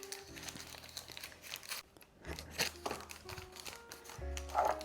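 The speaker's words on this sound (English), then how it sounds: "you're just gonna press this down with your hands. And you wanna press it down pretty firm" Hands press a no-bake, plant-based, gluten-free Nanaimo bar base down firmly in a pan, giving close crinkly, crumbly crunching and rustling in uneven bursts that continue throughout.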